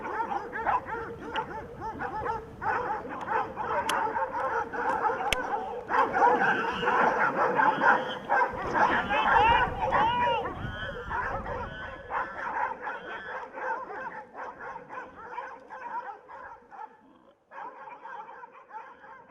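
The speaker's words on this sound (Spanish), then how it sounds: "Ladras, voces y disparos es la banda sonora que lleva acompañándonos toda la mañana" Hunting dogs bark and yelp in a chorus during a wild boar hunt in the countryside, mid-distance, with overlapping barks and whimpers and a few faint shouts in the background.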